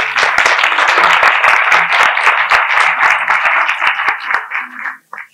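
Sustained audience applause fills a lecture hall on Iranian Neanderthals, dense clapping from a crowd going on for about five seconds before stopping abruptly.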